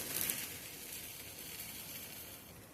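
Thalipeeth, a Marathi flatbread, sizzles in oil on a hot tava with a steady, close, even crackle, slightly louder at the start, with no voices.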